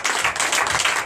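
Brief burst of clapping from a church congregation at a Sunday worship service in Comè, Benin, dense and fairly close, lasting about a second.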